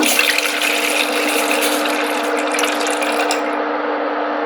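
Water pours steadily into a pot sitting on a stove, a constant close splashing rush that cuts off near the end.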